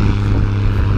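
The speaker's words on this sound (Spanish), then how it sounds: "Ok, una avioneta." A small propeller airplane passes overhead above a windy tropical island coast in Puerto Rico, its engine drone loud, steady and close throughout, with no voices.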